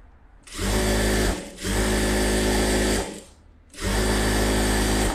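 A sewing machine stitches around blouse pieces in three loud, sustained runs close by, with brief pauses between them.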